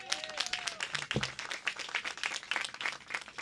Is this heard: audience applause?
yes